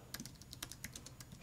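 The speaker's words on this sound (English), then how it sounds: "So if I type and tab, or if I type and then click out" Someone types on a computer keyboard, a quiet, quick run of irregular key clicks about ten strokes in a second and a half, with no voices.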